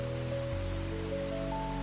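Steady rain falls in an even, dense patter, with a soft continuous wash under low sustained tones; no voices.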